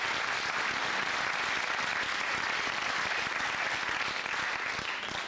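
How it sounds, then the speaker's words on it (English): Studio audience on a 1990 television game show breaks into steady, sustained applause, a dense wash of many hands clapping throughout with no pause. "let's have an encore of applause here with 11 points"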